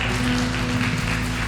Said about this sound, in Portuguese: Dê um aplauso bem alto pro Senhor nessa noite.